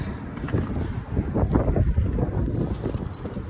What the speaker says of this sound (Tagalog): Ang lakas ang hangin guys